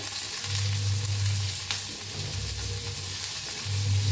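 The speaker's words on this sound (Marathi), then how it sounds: "ह्यांना सगळे खडे मसाले घेतले होते ते भी ह्याच्यात भाजून घेऊया, हलवून घेऊया।" Whole spices roast and get stirred in a pan while cooking palak paneer, a steady close sizzle with a low droning hum and occasional scraping stir strokes, no voices.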